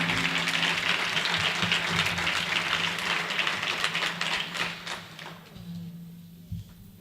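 Audience applause at a book presentation, a dense steady clatter of many hands that gradually thins and fades toward the end, with a low hum beneath.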